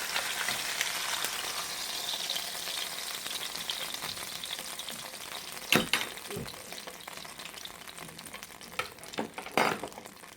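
Salmon frying in a pan, a steady close sizzle with crackling throughout, punctuated by a few sharper scrapes and clatters of a utensil near the end.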